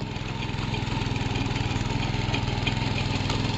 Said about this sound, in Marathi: आणि हो बघा त्याच्याकडे ट्रॅक्टर धरूक दिलं नांगरता शिकाऊ गा.